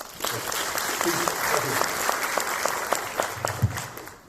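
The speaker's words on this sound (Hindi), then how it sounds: "एक बार जबरदस्त तालियां देंगे" Small audience at a business opportunity meeting gives applause for Rishab, a short run of moderate clapping with individual claps standing out, fairly close and sustained throughout.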